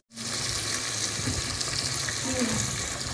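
Chicken sizzles and fries in a pan, a dense, steady hiss and crackle that starts abruptly and continues evenly, close and fairly loud, with no talk.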